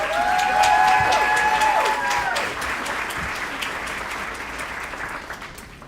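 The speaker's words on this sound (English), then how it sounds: "We'll ask that you all hold your applause until each row has been pinned." Applause and some cheering from the audience at a spring nursing pinning ceremony, loud at first with a few ringing tones, then settling into steady clapping that slowly fades.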